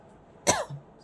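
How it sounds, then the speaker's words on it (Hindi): A single sharp cough from an adult indoors, brief and close, standing alone against a quiet room background. "sorry if I am coughing, I am sorry for that"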